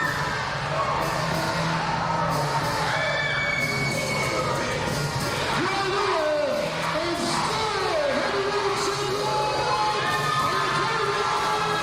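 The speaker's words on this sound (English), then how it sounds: "The crowd going wild now" At a CCW wrestling event, the crowd cheers wildly after a heavyweight championship match, a loud continuous roar of shouts, whoops and yells with children's voices. A commentator talks over it.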